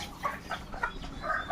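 Caged chickens clucking on a farm, short soft clucks repeating over a faint noisy background, no talk.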